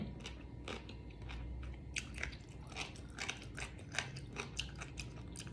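Someone bites and chews giant jellyfish up close, producing a steady run of crisp, crackly crunches in a quiet setting.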